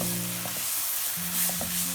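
Spices and brinjal being stirred and roasted in a pan for baingan bharta, a steady close sizzle with a couple of brief scraping stirs, continuous and moderately loud.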